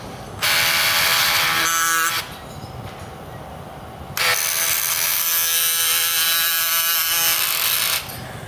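A powered surgical saw cuts bone during knee surgery on a cadaver, in two loud, high-pitched buzzing bursts separated by a short pause.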